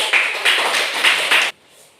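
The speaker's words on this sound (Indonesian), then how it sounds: "Iya, tepuk tangan dulu." A group claps hands together during a Bible lesson, giving a dense, loud burst of applause with a few stronger swells, lasting about a second and a half before stopping abruptly.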